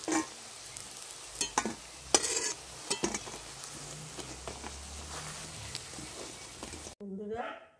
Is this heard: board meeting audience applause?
no